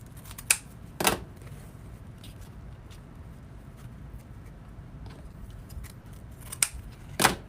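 Scissors trim wreath materials, giving a handful of sharp, close snips scattered across a quiet room, with long gaps between the cuts.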